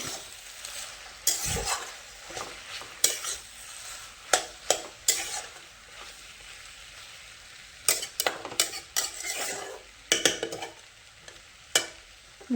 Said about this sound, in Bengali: দিয়ে ভালো করে একসাথে এইভাবে মিশিয়ে দেবো।